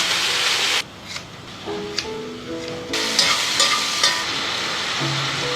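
Oil sizzles steadily in a pan over low heat, with light scraping and shuffling, and a soft tonal hum underneath.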